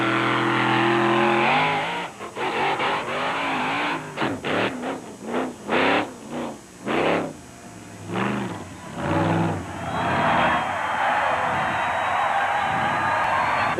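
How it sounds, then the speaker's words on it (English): The Grave Digger monster truck engine revs hard during a crushing and stunt-jumping show, loud and continuous, rising and falling in repeated throttle bursts over a constant roar. "Crowd-pleasing gravedigger to give a demonstration of his automobile's crushing and stunt-flying ability"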